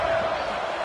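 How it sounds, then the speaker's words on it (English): Home stadium crowd roaring throughout a college football video game, a dense steady wash of cheering with no gaps. "this home crowd is fired up and ready to make a difference"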